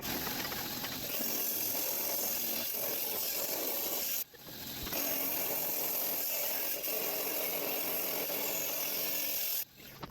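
A rock saw grinds steadily through Picacho and Calandria agates, a continuous rough abrasive whir close up with two brief dips where the cut pauses.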